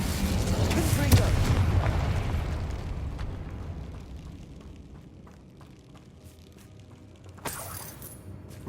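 A Confringo spell explosion from the wizarding game Hogwarts Legacy: a loud, booming blast with crackling debris in the first few seconds that fades to a low rumble, then a second sharp burst near the end.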